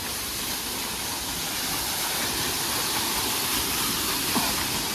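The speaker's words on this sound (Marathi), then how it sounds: "मस्त आहे ते धबधबा." A waterfall at Raigad roars in a steady, dense wash of noise, close and continuous for the whole stretch, with no voices.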